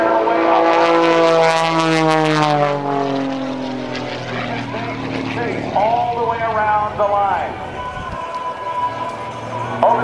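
A propeller aerobatic airplane roars loudly at an airshow, its engine shifting in pitch through rolls and inverted maneuvers, with a voice talking over it throughout.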